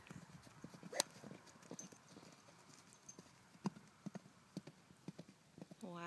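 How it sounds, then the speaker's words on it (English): Rhythmic hoofbeats of a horse galloping on firm ground, steady thuds at moderate distance, with a brief faint whinny-like call near the end. "Listen to the sound of the galloping."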